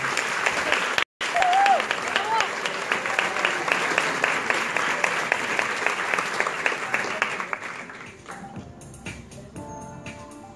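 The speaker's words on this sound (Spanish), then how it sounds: "El aplauso y nuestro reconocimiento para ellos y su trabajo." Applause from an audience for the jury at the closing and awards ceremony of a film festival, steady clapping that gradually thins and trails off into scattered claps, with brief voices mixed in.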